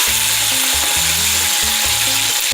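Chicken pieces frying in oil in a pot for homemade doner, a loud, steady sizzle running throughout, with low rhythmic scraping or stirring noises pulsing underneath.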